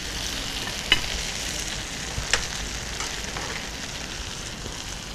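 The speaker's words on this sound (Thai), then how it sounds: "เราก็เลยจะผัดในลักษณะต่อเนื่องกันนะคะ" Noodles stir-fried continuously in a pan with little oil, a steady soft sizzle with occasional light scrape and clink of the utensil, no talking.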